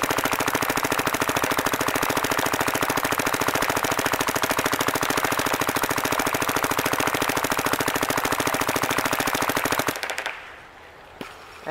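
Dye DSR paintball marker on full auto, a dense, unbroken stream of rapid shots roaring close and loud for about ten seconds before cutting off abruptly into near silence.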